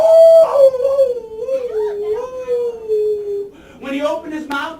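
A storyteller's voice imitates a dog howling, a loud drawn-out wavering howl that slides down in pitch over several seconds, ending in short yelping barks.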